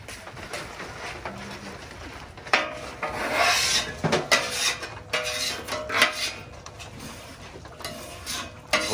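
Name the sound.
spatula scraping and cleaning a griddle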